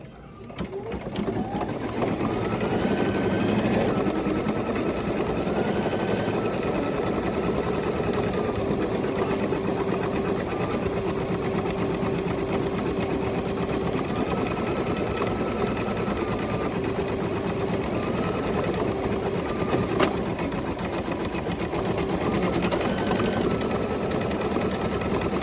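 A computerized embroidery machine stitches a letter in a unicorn design, its rapid needle chatter forming a steady, close, continuous mechanical whirr for the whole stretch, with no talking.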